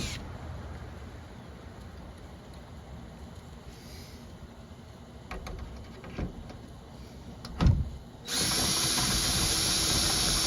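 A power drill driving a screw into a metal roof to mount a solar panel, running in short bursts before a loud, sustained, close whir near the end.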